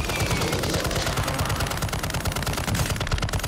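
Rapid automatic gunfire in a video game, dense rattling bursts close and loud with no talking.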